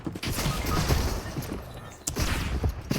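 Rocket launcher fire and explosions in the Fortnite video game, a rapid cluster of booming blasts and crashes with a sharp impact near the middle, loud and close, with faint game noise and no clear talk.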